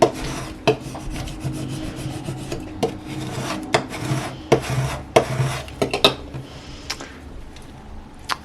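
A tool scrapes vinyl lettering onto an acrylic sign in a series of short, rasping strokes, close and moderately loud, with uneven rhythm and occasional light taps between passes.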